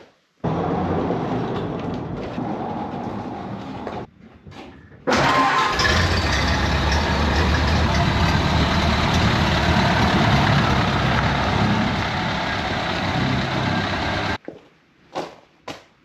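A Model A Ford is started and driven out of a shop toward a wash bay. The engine catches after a few brief bursts, then runs loud and close for about ten seconds before cutting off.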